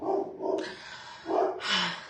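A pet dog barks in a few short, mid-loud bursts close by, with a brief pause between barks and no talking.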